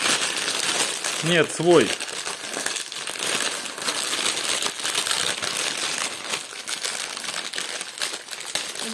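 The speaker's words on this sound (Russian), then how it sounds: "Давай второй пакетик распаковывай." A plastic parcel bag from an AliExpress order from China is torn open and unwrapped, with crisp crinkling and rustling up close, while people talk in Russian over and between the sounds.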